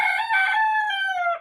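A backyard rooster lets out a single loud, close crow lasting over a second, with a harmonic-rich call that drops in pitch at the end.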